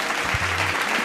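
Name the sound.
audience clapping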